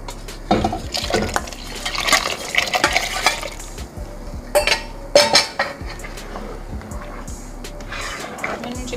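Kadhi curry batter gets stirred in a pot, with irregular scraping and clinking of a spoon against metal and some liquid sloshing. Bursts are louder around the middle and there is light background noise.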